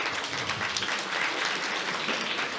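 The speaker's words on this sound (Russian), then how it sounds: "Можно, да, похлопать это." Steady audience applause fills the room for a sponsor, a dense continuous wash of clapping from many hands with no speech over it.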